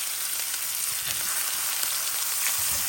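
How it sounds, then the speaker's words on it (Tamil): Mustard seeds and cumin seeds spluttering in hot oil, a dense steady sizzle with scattered crackles and pops, close and alone. "கடுகு சீரகம்லாம் பொரிஞ்சிச்சு"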